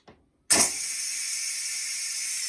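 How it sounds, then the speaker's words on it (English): Steam bursts from the vent of a Ninja Foodi pressure cooker after porridge oats finish cooking, a brief click followed by a sudden loud hiss that continues steadily and evenly, with no talking. "That is the steam coming out."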